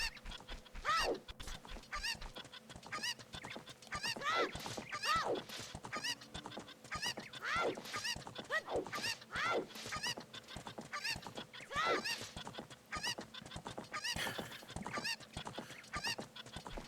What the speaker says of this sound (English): Can someone strangle whatever chicken's making that noise, please?